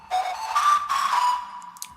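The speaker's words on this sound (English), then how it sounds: "So I use this whistle kind of sound," A sustained whistle-like synth tone holds a steady pitch over about two seconds, bright and clear, then fades away.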